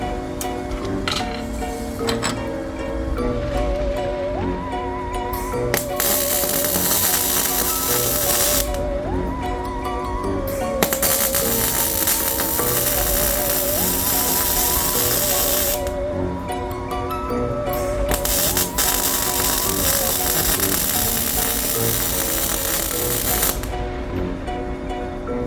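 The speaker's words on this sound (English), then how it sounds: "With the top welded up, I'm going to flip it over and weld the bottom." A metal Halloween spider being welded up, a steady sizzling, crackling hiss running in long bursts with brief pauses, over background music.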